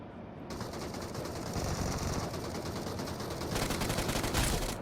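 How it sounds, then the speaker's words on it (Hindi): Sustained automatic gunfire rattles in rapid bursts throughout a BGMI mobile battle royale match, dense and continuous with a louder flurry near the end, no talking over it. "मुझे सामने की तरफ से फायर आता है"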